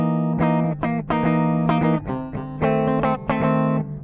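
Bass guitar played through an effects chain with no booster pedal engaged, striking a series of sustained dissonant chords in a steady, rhythmic pattern of about eight attacks, loud and close with no talking.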